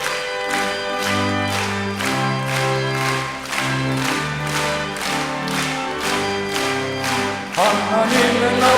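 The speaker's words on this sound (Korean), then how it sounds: "박수 치면서 부르겠습니다." A church congregation at a 1997 prayer meeting sings a hymn together with music, clapping in a steady rhythmic beat throughout, the voices and claps blending into a full, continuous sound.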